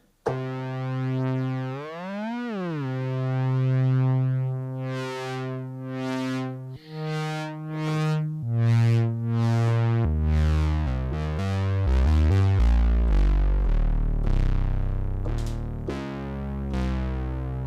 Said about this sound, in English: This is just the sound of the synth.